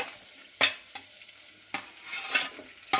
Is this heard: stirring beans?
yes